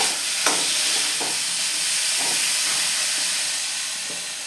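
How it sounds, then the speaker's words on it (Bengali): Chopped banana flower fries in a pan with a loud, hissing, steamy sizzle that holds steady throughout, punctuated by a few soft stirring knocks, close up and without speech. "কুচানো মোচাগুলি দিয়ে দিলাম।"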